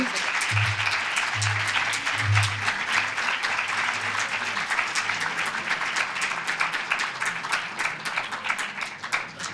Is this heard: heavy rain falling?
no